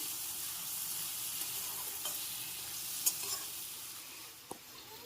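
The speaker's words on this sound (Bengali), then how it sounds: "এখন চিংড়ি মাছটাকে নেড়ে চেড়ে একটু ভেজে নিচ্ছি" Prawns frying in hot oil for a Bengali bottle gourd and prawn curry, giving a constant close hiss and crackle, with a few soft clicks of a spatula as they are turned over. No voices.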